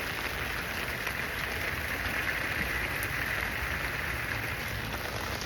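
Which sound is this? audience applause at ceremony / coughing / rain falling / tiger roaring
rain falling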